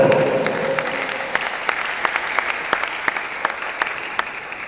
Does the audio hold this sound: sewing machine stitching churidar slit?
no